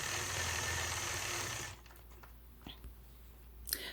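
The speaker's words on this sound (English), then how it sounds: "I'll start out by stitching in the ditch all the way around the outside of my quilt block." A sewing machine runs steadily and fairly loud while stitching in the ditch around a quilt block, then stops after under two seconds, leaving faint clicks and handling noises.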